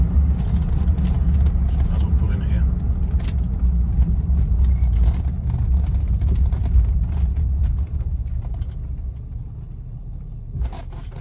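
A 1976 Rolls Royce Silver Shadow 1 on the move, a continuous low engine and road rumble heard from inside the car, easing slightly toward the end, with a voice talking over it.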